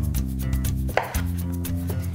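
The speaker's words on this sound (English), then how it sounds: "I just want to cut a lime" A knife cuts through a lime on a cutting board, with one sharp chop near the middle over low steady background hum and faint clatter.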